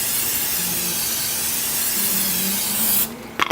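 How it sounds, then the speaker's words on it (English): Olive oil cooking spray hisses steadily from a can onto food in a tray, one long continuous spritz lasting about three seconds, close and fairly loud, then cutting off into a few small clicks and clatters. "We're gonna give it another spritz of olive oil cooking spray."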